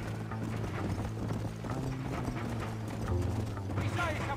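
In the western video game Red Dead Redemption, a ridden horse's hooves clip-clop in a steady rhythm at moderate volume, with a low mechanical hum and a hint of voice underneath.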